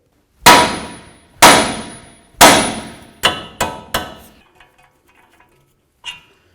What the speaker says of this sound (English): we're going to take a hammer and we're going to hit right here on the knuckle